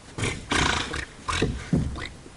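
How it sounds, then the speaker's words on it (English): A pair of giant otters, large animals about four feet long and roughly ten feet away, give repeated loud, rough grunting calls in short bursts, several in a row with brief pauses, with no talking. "That grunting sound is the sound of a giant otter."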